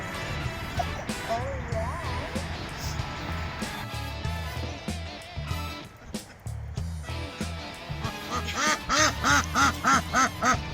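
Ducks quack repeatedly nearby, with a burst of rapid, loud quacks near the end, while people talk in the background.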